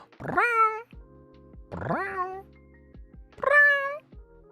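A cat meows three times, each a loud, drawn-out rising-then-falling cry spaced about a second apart, close by and otherwise quiet.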